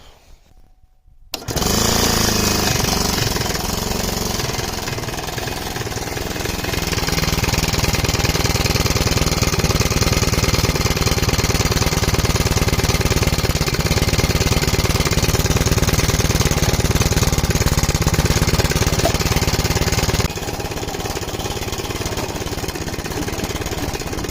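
Small go-kart engine starting abruptly after a quiet moment, then running loud and close in a continuous buzzing rattle, its pitch rising and holding under throttle before easing to a lower, steadier run near the end.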